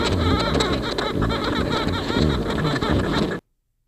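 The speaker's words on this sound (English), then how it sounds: "50-meter unloading sound." A recorded honeybee unloading sound for a 50-meter height plays as a dense, close buzzing and chattering with rapid pulses. It lasts about three and a half seconds and then cuts off abruptly.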